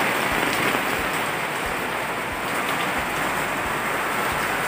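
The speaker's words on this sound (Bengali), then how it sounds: "এই যে শুরু হয়ে গেল বৃষ্টি," Rain falls steadily and densely, a continuous broadband hiss of drops on surfaces with no voices, even in loudness throughout.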